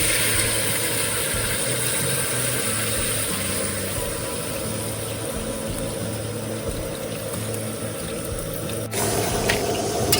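Water is poured into a pot of cooking curry, a steady rushing, splashing flow that runs on for several seconds and ends with a clunk and a shift in the sound near the close.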